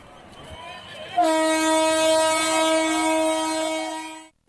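Train horn sounding as a cross-border passenger train on the Jaynagar–Janakpur–Kurtha railway pulls into Janakpur, Nepal: a loud, sustained multi-tone blast held steady for about three seconds before cutting off.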